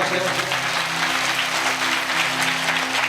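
A church congregation clapping loudly together during a sermon, dense sustained applause that fills the room for a few seconds with a low murmur of voices underneath.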